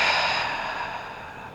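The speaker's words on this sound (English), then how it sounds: "Breathing deep," A slow, deep exhale during a gentle morning yoga stretch: a soft, breathy rush that starts fairly loud and gradually fades, heard alone and close.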